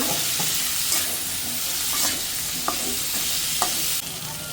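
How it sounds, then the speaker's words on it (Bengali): Potatoes sautéed with spices in a pan, a continuous loud sizzle with intermittent scrapes of a spatula stirring, no talking. "আলুটা কষালাম ভালো করে"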